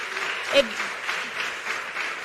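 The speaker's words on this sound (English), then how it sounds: "A round of applause for Joe" Studio audience applause for a contestant on a TV talent show, a steady moderate patter of clapping with crowd voices mixed in.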